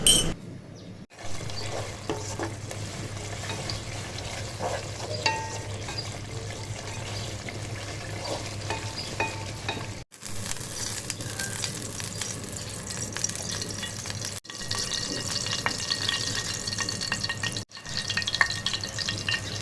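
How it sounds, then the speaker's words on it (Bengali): Fish coated in chili, salt, cumin and coriander powder and fried crisp in oil, a steady close sizzle with stirring, broken by a few brief cuts, no talking. "মাছগুলোকে ভালোভাবে ধুয়ে মশলা মেখে ভেজে নেব"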